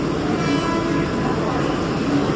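A Mumbai local train at a station, its steady rumbling roar filling the clip at close range without break.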